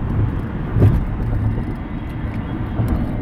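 A car rolls along the road, its engine and tire noise forming a steady low rumble heard from inside, with a slight swell partway through and no voices.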